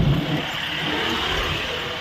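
A car travels along the Samruddhi highway near the Bhiwandi junction, heading from Nagpur toward Mumbai, giving a steady, fairly loud broadband road rush with a low rumble that holds throughout, with no talking.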